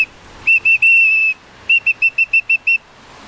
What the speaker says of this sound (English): I think we should all have whistles next week.